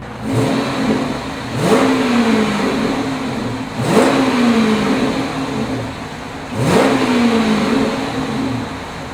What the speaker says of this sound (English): And then the HEMI still got a great sound, man.